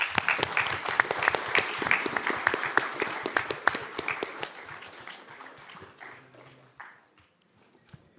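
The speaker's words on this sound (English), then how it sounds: "So give her another round of applause." A crowd applauds at a Miami Gardens city council meeting: dense, loud clapping that thins and fades out over several seconds, leaving near silence with a few stray sounds.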